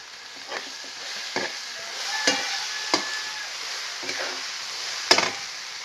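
Spices with a pinch of asafoetida and turmeric fry in oil for tomato chutney, a steady close sizzle broken by several sharp stirring scrapes of a spoon against the pan.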